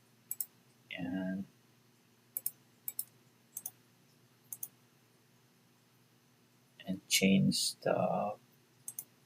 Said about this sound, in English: I'm going to just click here